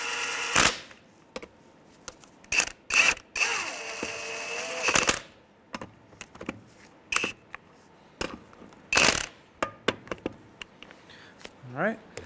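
A ratchet with a 19 mm socket snugs the lug nuts on a 2003-2011 Honda Element's wheel, giving loud bursts of sharp clicking and clacking separated by pauses, with a few quieter knocks near the end.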